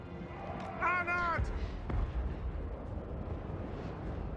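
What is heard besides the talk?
dwarf flame cannon firing in a Warhammer video game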